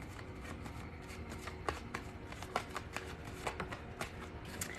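Tarot cards shuffled by hand in a steady riffle of soft papery flutters, with a few sharper snaps and taps as the deck is handled, close and fairly quiet with no voices.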